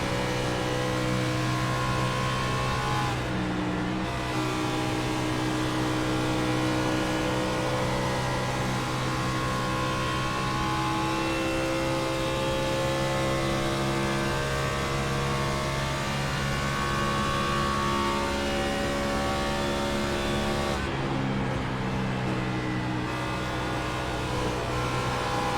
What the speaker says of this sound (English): Dupree, you can hear that motor, man. He is making it rev harder and rev quicker.